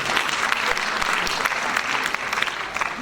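A crowd at a literary award ceremony claps steadily for a photo on stage, a thick, even wash of applause lasting about three seconds with no talk on top.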